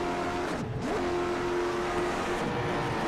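Race cars roar across the line at Kern County Raceway Park, a dense continuous engine drone with rising and falling pitch as cars pass close by, loud and unbroken throughout.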